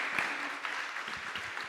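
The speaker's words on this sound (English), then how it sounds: "Let's give this brother a round of applause." Audience at a nonprofit bootcamp event applauding a speaker as he comes up, a steady, moderately loud round of clapping across the whole short stretch.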